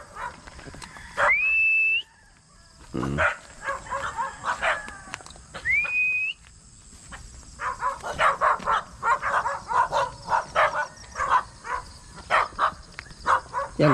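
A black farm guard dog barks in repeated bursts, close by, with two rising whistles early on, then a run of quick barks and yips.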